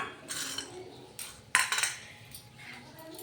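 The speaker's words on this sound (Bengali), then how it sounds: "বাদাম আর বড়িটা দিয়ে আমি ভালোভাবে নেড়ে চেড়ে আবারও মিশিয়ে নিচ্ছি" A metal spoon scrapes and clinks against a pan while stirring fried peanuts and lentil dumplings into cooked water spinach, several brisk close scrapes with a louder cluster near the middle, no voices.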